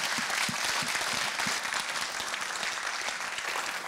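Steady applause from a conference audience at a startup event in Exeter, dense and continuous for the whole stretch with no talk over it.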